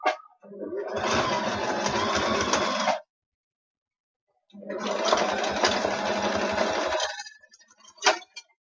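A sewing machine runs in two sustained bursts of steady mechanical whirring, each about two and a half seconds long, with a short silent gap between them and a brief knock at the end.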